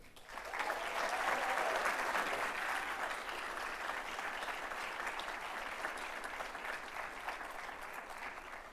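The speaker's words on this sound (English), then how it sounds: "they should now each be warmly applauded" Warm applause at a business school awards ceremony held at Lincoln Center: a large hall full of continuous, even clapping that swells early and then settles at a steady, slightly distant level.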